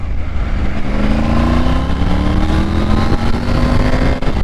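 A Triumph 900 Rally Pro motorcycle engine revs on the road, its steady roar rising gradually in pitch as it climbs through the revs, loud and continuous with no talk.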